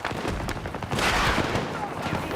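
Gunfire from a shooter video game plays as a dense, continuous wash of shots and booms at moderate loudness, with no clear talking over it.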